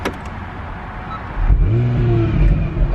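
An Acura NSX engine fires up with its valves open, a low rumble swelling from a quiet idle-like hum into a steady, louder mid-pitched drone that holds for the remaining couple of seconds.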